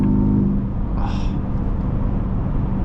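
A 2025 Ford F-150 Raptor R pickup drives along with its engine rumbling deep and steady, loud and close from inside the cab, with a brief higher swell in the middle.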